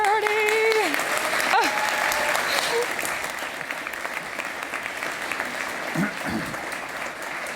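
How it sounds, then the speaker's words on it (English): An audience applauds loudly and steadily at a business summit, a dense wash of clapping that slowly thins toward the end. "please give me a round of applause"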